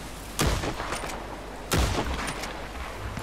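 Gunfire in Red Dead Online rings out as two loud, booming shots about a second and a half apart. Each one leaves a short rattling tail against a low, constant background rumble.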